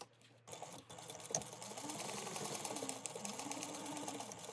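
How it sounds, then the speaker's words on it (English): A sewing machine stitches a gusset seam at a half-inch allowance, a steady close mechanical whir with fine rapid needle chatter that starts after a brief pause and runs continuously. "you're going to sew that at a 1/2 inch seam allowance."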